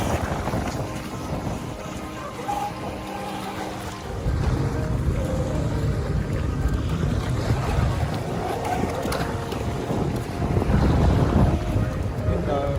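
Traxxas Spartan (4-cell) and Traxxas M41 Catamaran (6-cell) RC boats racing on open water, a continuous whining motor and hull rush heard from the shore, strong wind buffeting the microphone and growing louder midway.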